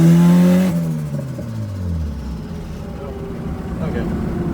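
A turbocharged Honda Civic engine revs hard at the start, its harmonic pitch sweeping down after a sudden cut, then settles into a rough, steady drone with wind and rumble for the rest.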